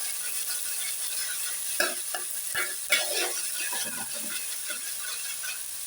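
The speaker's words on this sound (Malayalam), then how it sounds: "2 സ്പൂൺ ഇഞ്ചി വെളുത്തുള്ളി പേസ്റ്റ് നമുക്ക് ഇട്ടിട്ടുണ്ട്. ഇത് നല്ലൊരു മൂത്ത് വരണം. നമുക്ക് ജസ്റ്റ് ഇളക്കി കൊടുക്കാം." Two spoons of ginger garlic paste frying in a pan while it is stirred, a steady sizzle with scraping spoon strokes and a few sharp clinks against the pan, close and without any talking.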